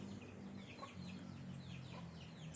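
A small family of chickens and chicks roaming outdoors, soft clucks and faint high peeps scattered through the stretch, heard from a little distance at low level with no one talking.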